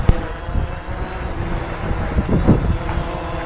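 Steady wind buffeting an outdoor microphone during a drone landing, a continuous low rumble with gusty swells and no voices.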